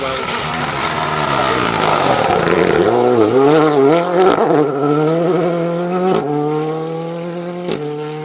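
A Hyundai rally car drives hard and close on a rally stage, its engine note rising and falling in quick revving swells with sharp pops and gear changes as it accelerates away.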